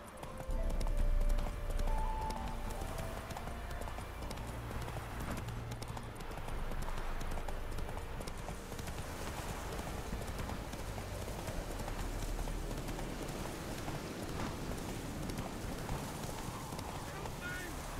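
Roach, the horse in The Witcher 3, galloping in steady rhythmic hoofbeats that stay prominent throughout. Game sounds and a brief speaking voice come in near the start.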